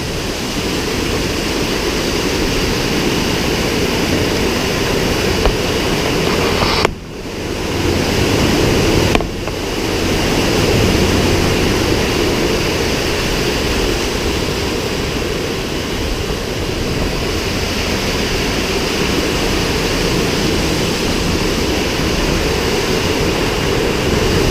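Raw water rushes into a treatment plant at maximum pumping, about 14.5 million gallons, as a loud, steady broadband roar with two brief dips, no voices.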